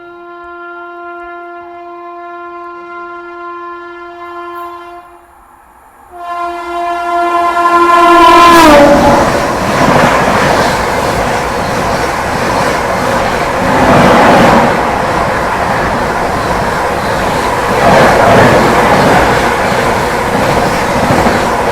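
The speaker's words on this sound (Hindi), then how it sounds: "अभी आ रही है चेन्नई राजधानी एक्सप्रेस अपनी श्रीधाम एक्सप्रेस को ओवरटेक मारने" The Chennai Rajdhani Express overtakes on an adjacent line at a small Indian railway station, announced by a long, loud two-tone horn before the train roars past at speed, with continuous heavy wheel and coach rumble filling the rest of the clip.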